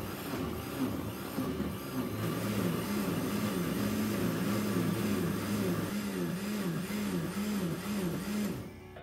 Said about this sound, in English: So I blended that for 60 seconds.